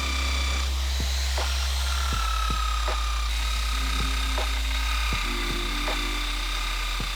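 Drill running against a BMW E36 brake caliper during paint preparation, a steady high-pitched whine with shifting tones and repeated sharp scraping clicks as the bit works the metal, close and continuous.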